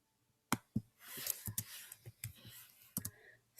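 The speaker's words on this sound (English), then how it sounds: "I'm typing on this." Typing on a computer keyboard gives irregular, close clicks and taps in short uneven bursts, fairly quiet overall.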